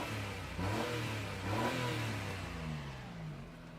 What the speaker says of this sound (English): I just want to show you the exhaust here